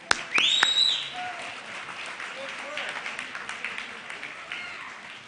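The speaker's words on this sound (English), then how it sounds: "thank you for coming, and we may applaud." Banquet guests applaud at a reunion dinner, moderately loud clapping that starts after a sharp burst and thins to scattered claps, with faint voices underneath.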